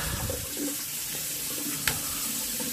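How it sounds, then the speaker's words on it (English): Steady, close rush of running water after the cold water inlet valve is opened on a Worcester Greenstar boiler, continuing evenly throughout with a small click partway. "open this cold water inlet valve here"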